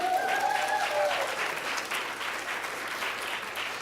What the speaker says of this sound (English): Everyone give Phil a round of applause.